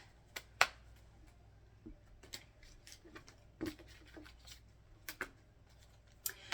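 Tarot cards being shuffled by hand, giving soft, irregular papery flicks and snaps in scattered bursts, close and fairly quiet, with no talking.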